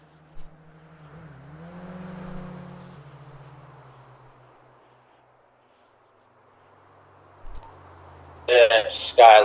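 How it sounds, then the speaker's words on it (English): Cars, including a Skyline, speed past in a GTA police roleplay, a rising and falling engine whoosh that swells and fades over a few seconds, moderately loud, followed by quiet and then a voice on a radio. "That Skyline and that green car both just passed me doing 190."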